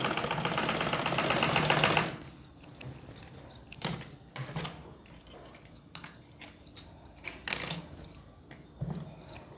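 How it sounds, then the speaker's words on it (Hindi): A sewing machine stitching the seat seam of palazzo pants, running in a loud continuous burst for about two seconds, then quieter mechanical clicks and scattered knocks as the fabric is handled. "दूसरी तरफ की इसी प्रकार सिलाई लगा लेनी है"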